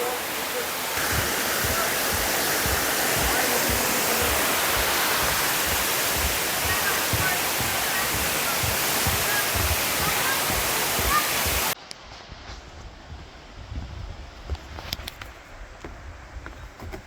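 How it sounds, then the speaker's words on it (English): Lower Falls at Graveyard Fields near Asheville, North Carolina, roars as a steady, dense wash of falling water close by for about twelve seconds, then drops abruptly to a quieter, more distant rush. "And here we are at the waterfall."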